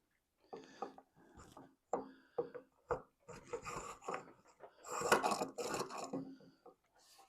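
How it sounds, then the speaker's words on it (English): Spokeshave shaving a wooden rocking chair leg, a series of short, close rasping strokes in uneven bursts, louder and denser near the end, with no talking. "The spoke shave should make pretty quick work of it."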